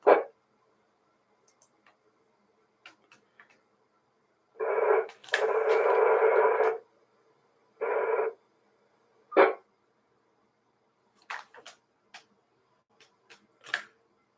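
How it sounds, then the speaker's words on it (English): Over quiet radio hiss, an amateur radio repeater keys up in a few bursts of noisy static that open and close, each carrying no voice, separated by silence and scattered faint clicks. "I could hear the repeater, but I could not hear any audio"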